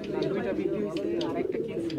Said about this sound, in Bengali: বন্ধুরা দেখতে পাচ্ছেন এই যে ভাইয়ারা অনেক সুন্দর সুন্দর কবুতর নিয়ে বসে আছে